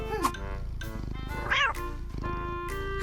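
A pet cat meows several times up close, short wavering cries with one louder, rising yowl in the middle, over a faint steady background hum.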